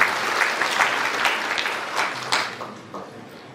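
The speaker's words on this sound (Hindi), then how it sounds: "इसके लिए जोरदार तालियां बनती हैं हम सब के लिए" Loud, enthusiastic applause from an audience at a Republic Day speech, dense clapping that gradually thins and fades toward the end.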